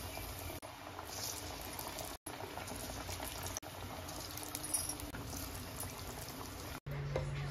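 Pea masala vadas fry in oil, giving a continuous quiet bubbling sizzle that is broken by a few brief dropouts.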